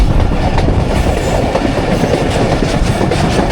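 The Jaffar Express train running on rails between Attock and Rawalpindi, with a loud, continuous rumble and rhythmic clickety-clack of wheels heard up close from on board.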